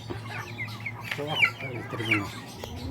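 Young heritage chickens of Rhode Island and Plymouth Rock breeds cluck and chatter close by in a pen, several soft overlapping calls over a low background hum.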